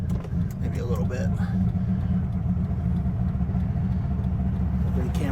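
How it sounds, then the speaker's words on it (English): A 1997 Dodge Viper GTS coupe gives a deep, continuous exhaust rumble heard from inside the car, with someone talking over the engine. "Obviously, the camera should be able to pick up the exhaust."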